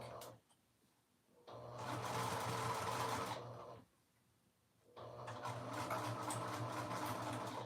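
A sewing machine stitches the bottom half of a dress at a 3/8 seam allowance, running in two loud, steady bursts of several seconds each with a short quiet pause between them.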